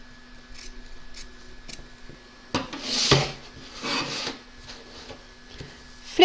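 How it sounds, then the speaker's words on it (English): Excess fabric being trimmed, heard as a few faint snips followed by a louder burst of crisp cutting and rustling near the middle, under a low steady hum. "I'm now going to trim off a little bit of the excess here"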